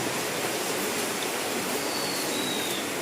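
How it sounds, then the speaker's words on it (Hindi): Waterfall right beside a jungle resort in Nainital, a constant broadband rush of falling water, steady and unbroken throughout, with no voices over it. "ये जो आपको पानी की आवाज़ आ रही है ना, ये झरना है।"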